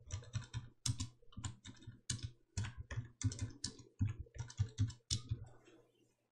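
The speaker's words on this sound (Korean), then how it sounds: "엔터 눌러가며 계속 타이핑 하십니다" Close-up typing on a computer keyboard, quick clusters of crisp key clacks with short pauses between bursts, no voices.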